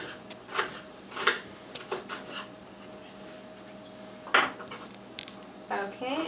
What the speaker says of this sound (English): I'm going to cut just a little bit more to make a 1/4 cup.